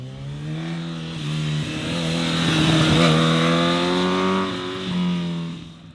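A Honda Hornet SP motorcycle engine revs hard and loud on a track hotlap, its raspy tone rising and falling continuously as it accelerates through gears, close by.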